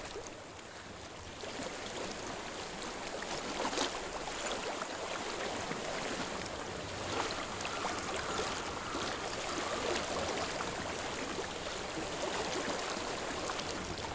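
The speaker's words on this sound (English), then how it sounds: "I hear water." Steady rushing stream water from the video game Hellblade flows continuously and fairly close, a dense even wash with no voices.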